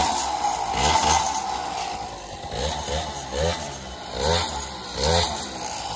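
A 75cc moped engine idles and revs in uneven surges, buzzing steadily close by with several louder rises and falls of the throttle.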